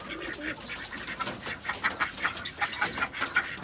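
Pigeons coo in low, repeated bursts amid a busy background of rustling and shuffling, with a few faint higher calls mixed in.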